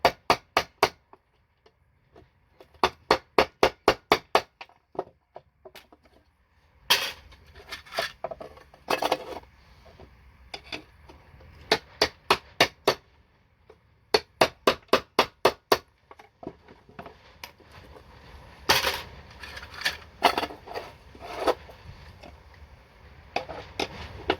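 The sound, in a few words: hammer and chisel cutting gold BGA scrap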